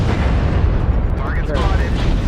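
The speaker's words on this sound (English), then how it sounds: "Artillery strike activated." Heavy artillery strike explosions in MechWarrior Online rumble as a dense, loud, sustained barrage of booms with a faint whistling streak overhead, lasting throughout.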